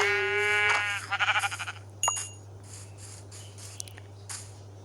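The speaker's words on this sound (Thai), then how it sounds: "ใช่ลูกแกะตัวใหญ่นี่" Sheep in the video game Minecraft bleat in a loud, wavering call, followed by quieter fluttering bleats and a few faint clicks over a constant low electrical hum.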